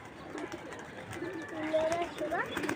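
Pigeons coo softly in a loft, with low repeated calls and a few brighter notes under faint background talk and handling noise.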